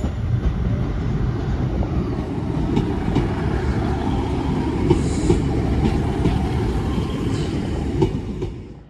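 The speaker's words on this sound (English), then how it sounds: "back out goes the Chester service" A Class 150 diesel unit on the Chester service pulls out of Crewe station, a steady rumble with rhythmic wheel clatter and faint squeals, close and continuous before fading at the end.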